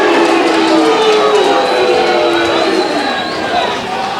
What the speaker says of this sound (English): And you can hear it's right in front of that Merewether Carlton crowd.